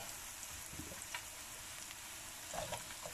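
Vegetables and carrots for achard fry in a pan with a steady, close sizzle and a few light stirring clicks.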